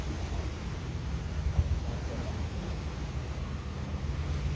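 Wind gusts steadily across the microphone, a continuous hollow rushing with slight swells and one brief thump near the middle.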